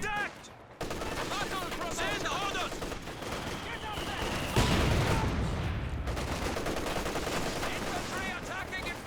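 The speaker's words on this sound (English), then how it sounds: "Making a lot of use of these incendiary rounds." MG34 machine gun firing incendiary rounds in Company of Heroes 2, with rattling bursts and battle noise that grow louder partway through, running under speech throughout.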